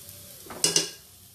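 Turmeric and chilli powder fried in a pan on high flame and stirred, a soft sizzle with two quick scraping clatters of a utensil against the pan, short and close, with no voices.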